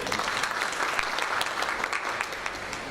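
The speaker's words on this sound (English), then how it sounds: "Let's give them a round of applause." A room applauds at a women's day celebration in Durban, steady continuous clapping from a sizeable crowd, fairly distant and even throughout with no talk on top.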